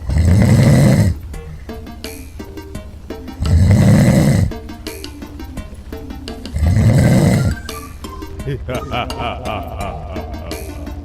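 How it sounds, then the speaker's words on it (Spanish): A mutant character in the video game Camping Madness snores loudly three times, each long rasping inhale-snore evenly spaced a few seconds apart, with quieter game music and tinkling chimes playing between them. "para ser un mutante, ronca peor que mi abuelo en las trincheras"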